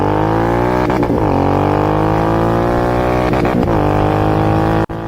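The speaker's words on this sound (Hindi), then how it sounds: "This twin cylinder has a roar" A Royal Enfield GT 650 twin-cylinder motorcycle engine roars loud and close, a deep steady rumble swelling with two throttle blips before a brief sharp cut near the end.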